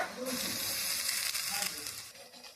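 Chopped onion frying in hot oil for chicken do pyaza, giving a close, bright hiss and sizzle that stays steady and fades slightly toward the end, with no talking.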